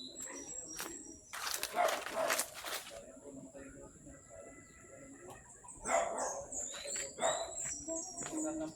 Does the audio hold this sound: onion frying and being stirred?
no